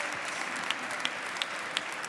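Audience at a Créole Christmas concert in Avignon applauds a singer, a steady, fairly faint roar of clapping with a few distinct sharp claps close by.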